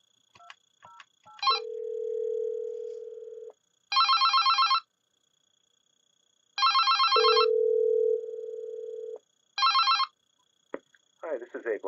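An analog phone on an Avaya IP Office system rings at extension 208, giving a repeated pattern of trilling electronic ring bursts between steady tones, clear and close, with a brief voice at the end.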